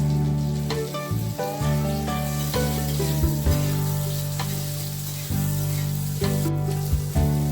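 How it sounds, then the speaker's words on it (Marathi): Chopped onion and tomato fry in hot oil on a tava (griddle), giving a steady sizzle that runs the whole time. Tonal background music plays over it. "कांदा लालसर भाजला की टोमॅटो भाजायचा"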